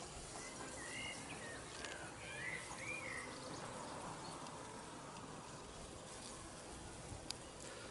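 Honeybees buzz around a hive being treated against varroa mites in spring, a steady, dense insect drone with occasional faint bird chirps in the background.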